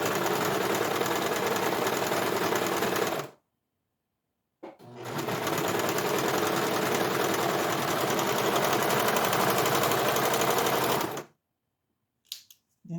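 A serger sewing machine stitching the seams of fabric baby bummies, running in a steady high-speed whir for about three seconds, pausing briefly, then a longer continuous run before stopping.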